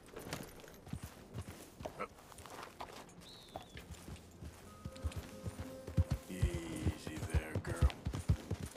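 Horse hooves clip-clopping in a video game, irregular walking hoofbeats that grow louder and quicker toward the end, with faint game sounds in the background.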